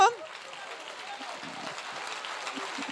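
A congregation clapping during a church sermon: a soft, even patter of many hands, moderately distant and steady throughout, with a voice speaking over it.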